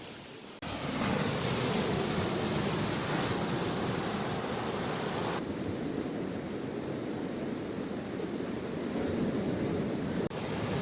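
Waves break on a beach in Puerto Rico, a steady loud wash of surf with wind buffeting the microphone, continuous from start to end with no voices.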